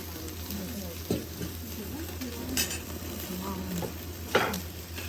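Pork neck surrounded by potatoes grilling over a wood fire, with fat dripping onto the heat: a continuous crackling sizzle with scattered pops and a couple of sharper spits, close by, with no clear talk.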